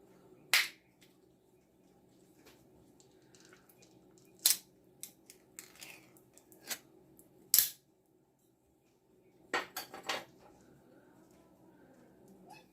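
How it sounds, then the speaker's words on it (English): A can of Clover Valley luncheon meat is opened in a quiet room, giving a few sharp, isolated clicks and snaps spread apart by silence, with a soft cluster of crackling pops near the end. "Give you a final dose of can opening ASMR for this video."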